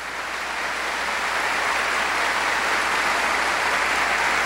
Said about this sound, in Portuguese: Pode aplaudir a palavra.